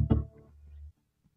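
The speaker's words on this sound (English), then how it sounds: "This is the sound of the gender bender control all the way to the far left. It's a very deep masculine sound." Electro-Harmonix Iron Lung vocoder pedal with its gender bender control turned fully left, giving a single short, very deep, low droning tone that swells and cuts off abruptly, followed by near silence.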